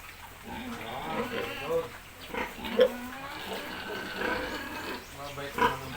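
Pig grunting in a farm pen, low snorts and grunts scattered through the scene, close but modest, mixed with a person talking.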